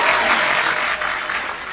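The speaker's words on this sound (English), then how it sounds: "Let's give them a round of applause, man" A short burst of applause during a live podcast episode, a dense wash of clapping that stays steady for under two seconds.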